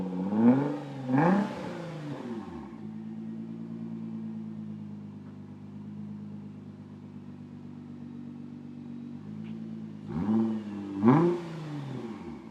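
A 2017 Nissan GT-R with an ETS Y-pipe exhaust revs loudly twice, drops into a steady, rumbling idle for several seconds, then revs hard twice again, heard up close with no talking.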